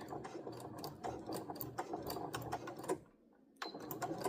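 A sewing machine back tacks while stitching a fabric bowl cozy, its needle running in quick repeated bursts with a short pause before the stitching resumes, close and clear.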